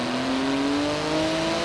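Twin-turbo 3.8-litre flat-six, 700 horsepower car engine in Forza Horizon 4, a loud steady droning hum with a slowly rising pitch, close and continuous, no talk.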